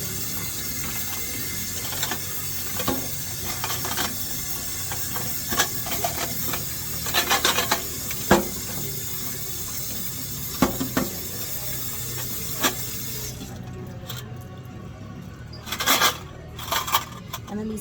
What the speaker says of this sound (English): I will then take the whole tray here and go ahead and rinse very well